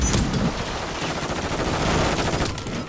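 Sustained, loud automatic gunfire from a shooter video game on the Shipment map, with rapid overlapping bursts of shots filling the whole stretch without pause.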